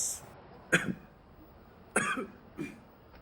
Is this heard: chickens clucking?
no